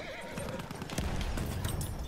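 Horse in Battlefield 1 whinnying and then clip-clopping along, close and fairly loud, with hoofbeats running steadily under a busy game background.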